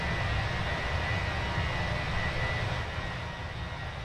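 Airbus A321 engines in a flight simulator, a steady broadband jet roar with a faint whine, droning evenly throughout and easing slightly at the end.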